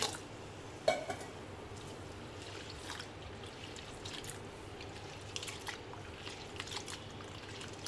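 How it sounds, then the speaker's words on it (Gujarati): Urad dal being washed in a bowl of water gives soft, close trickling and dripping with a few light splashes and clinks, a quiet, continuous watery sound. "સરસ પાણીથી એને ધોઈ લઈશું।"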